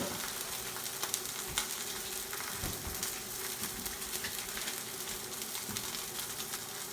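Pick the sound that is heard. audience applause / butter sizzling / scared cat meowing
butter sizzling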